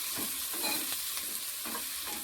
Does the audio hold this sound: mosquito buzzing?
no